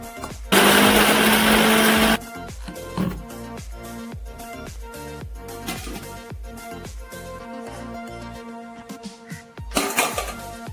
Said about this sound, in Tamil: வதக்கி வச்ச மசாலாவை மிக்சி ஜார்ல சேர்த்து அரைச்சு எடுத்துக்கிடுவோம்